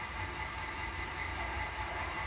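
Steady rumbling model train locomotive noise from a sound decoder, with a constant hiss and low hum, continuous and even throughout, with no voices.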